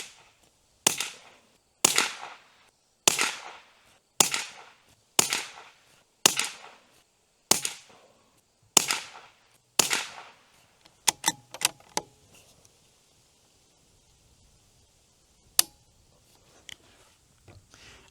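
Rifle shots from Federal Auto Match ammunition fired through a rifle wearing an Athlon Ares BTR Gen 3 scope, about ten sharp cracks at steady intervals, then a few quieter clicks and one more isolated shot.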